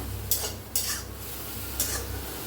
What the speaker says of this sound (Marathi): गवारी बघा अशी भाजून घेऊया